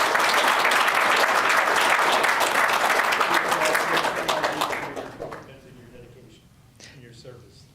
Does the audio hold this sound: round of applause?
yes